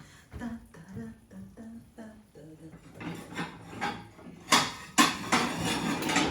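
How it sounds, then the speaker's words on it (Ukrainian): Dishes clink and knock, with a cupboard door and plate handling sounds as a plate is taken out of a kitchen cupboard, under some speech. "Це я тут дістаю тарілку."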